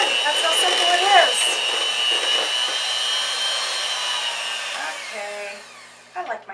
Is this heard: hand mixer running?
yes